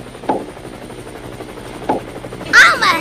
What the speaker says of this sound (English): I'm a helicopter